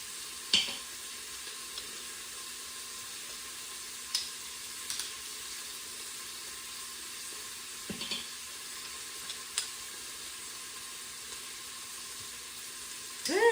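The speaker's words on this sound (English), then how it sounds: "Now it's time to add 3 garlic cloves, and I will be using my garlic press right in the inner pot." Garlic is pressed into a pot of onions sizzling in an electric pressure cooker's inner pot, giving a low steady sizzle with a few soft clicks and taps of the press, close but fairly quiet, with no talking.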